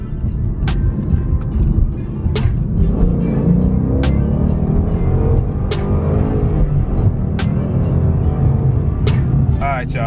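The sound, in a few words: 2015 Ford Mustang GT driving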